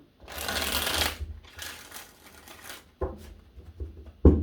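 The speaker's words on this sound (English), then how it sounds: "give this 5 shuffles" Tarot cards riffle-shuffled in quick bursts: a long rustling run, a second softer run, then sharp taps as the deck is squared, close and alone.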